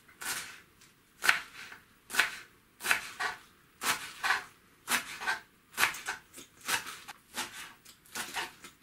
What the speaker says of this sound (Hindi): अब इस पालक को भी मैं थोड़े से काट लेता हूँ बारीक बारीक